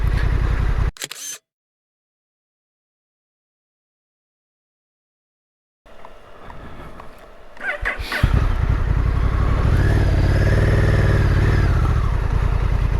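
A Honda NT1100 motorcycle on a Lake District run is first heard at speed, then drops to silence after a camera shutter click. Engine noise returns and swells into loud, close riding with a steady drone and wind rush.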